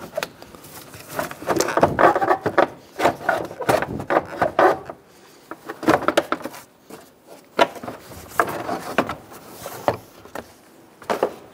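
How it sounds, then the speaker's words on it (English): Radiator cooling fan assembly lifted out of a 2011-2014 Hyundai Sonata, giving irregular plastic scraping, rubbing and knocking bursts close up, with short quiet gaps between movements. "lift up on the fan assembly."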